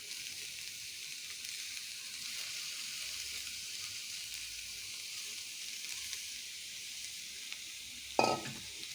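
Soaked, squeezed soybeans sizzling steadily in a hot pan as they are stirred, a soft continuous frying hiss with a brief louder clatter of the spoon near the end.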